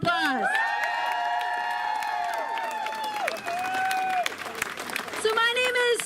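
Crowd applause at an outdoor nurses' march and rally, clapping and cheering with whoops and shouts, loud and sustained throughout.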